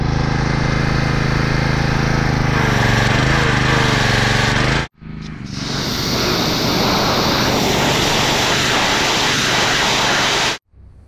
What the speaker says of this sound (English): that high power pressure washer did a lot better